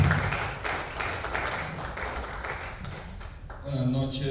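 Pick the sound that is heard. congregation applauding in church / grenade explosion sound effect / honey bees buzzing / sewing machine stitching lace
congregation applauding in church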